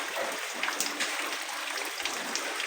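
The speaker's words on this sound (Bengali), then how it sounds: "খুব বৃষ্টি হচ্ছে" Dense, steady hiss of heavy rain, close and continuous, with scattered splashes and drips throughout and no talking.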